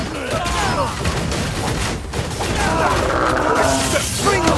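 Rapid volleys of gunfire in a video game battle, sharp repeated shots overlapping into a dense fusillade, loud and close, with shouted commands and clashing sounds in the mix.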